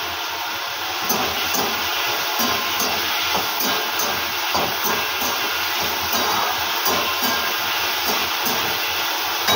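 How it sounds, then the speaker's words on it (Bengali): Potatoes frying in a pan with oil in a home kitchen, a steady close sizzling hiss with faint crackles and occasional soft shuffles, continuous throughout. "অল্প করে আলু ভাজা করে নিচ্ছি"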